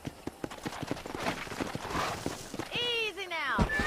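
In Red Dead Redemption on Xbox One, hooves clatter in a quick, uneven rhythm before a horse lets out a loud, drawn-out whinny near the end, with some talking mixed in.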